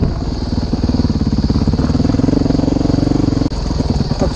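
A modded 2011 Honda CRF 450X dirt bike on a trail ride, its engine loud and close with a steady pulsing thump held in a low gear, briefly dipping near the end before picking up again.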